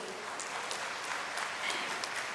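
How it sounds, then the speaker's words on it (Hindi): Audience applause, a dense wash of many hands clapping at a moderate distance, steady throughout the short stretch. "हम चाहेंगे प्रदेश की जनता की ओर से एक बार जोरदार तालियां हो जाए"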